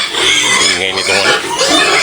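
A pig grunts and oinks in a rough, raspy run of calls while a person talks over it, close and fairly loud.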